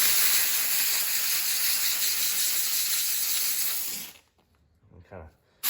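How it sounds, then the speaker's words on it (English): A steam cleaner hisses loudly and continuously as it blasts the neglected wheel wells of a Mustang, then cuts off abruptly near the end, leaving near silence broken by a brief faint sound. "Steamer."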